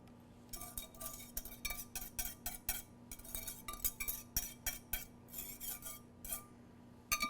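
A spoon scrapes a thick grits casserole mixture with crumbled bacon out into a casserole dish, a rhythmic run of close metallic scrapes and clinks against the dish, no talking.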